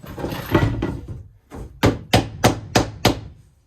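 Pins are tapped into a wooden front bed locker of a 1978 Avondale Heron caravan, giving a brisk run of close, crisp knocks, five evenly spaced blows after a few softer taps.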